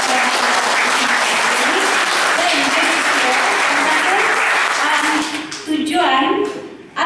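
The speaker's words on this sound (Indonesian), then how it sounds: "Kita berikan tepukan kepada mereka." Large audience at an evening gathering applauds guests arriving from Sabah, a dense, loud, sustained roll of clapping that thins and fades near the end as voices start to emerge.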